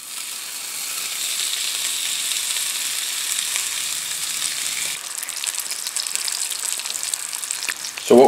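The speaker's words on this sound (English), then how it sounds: "we're going to fry up our bacon here, which won't take long" Bacon frying in a pan for a sandwich, giving a steady bright sizzle and crackle throughout, close and fairly loud, with a brief clatter at the very end.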